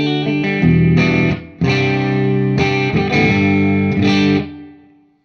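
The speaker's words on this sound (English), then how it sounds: "now if I go to the middle position and I have them both in humbucker mode, it sounds like this." A 2016 Gibson Flying V electric guitar in the middle pickup position with both humbuckers engaged, playing loud distorted chords in several strummed phrases that ring out and then fade at the end.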